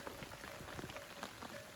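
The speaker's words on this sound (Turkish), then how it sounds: "Yağmur devam ediyor." Steady rain patters on a tent at a campsite during a storm, a dense wash of drops with occasional louder taps, mixed with faint scattered noises nearby.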